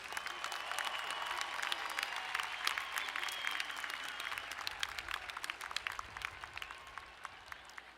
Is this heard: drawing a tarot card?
no